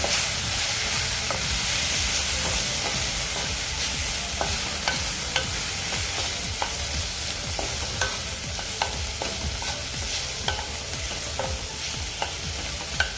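Continuous loud sizzling of spices frying in hot oil for a broken-wheat upma tempering, with light stirring taps scattered throughout, close up and without any voices.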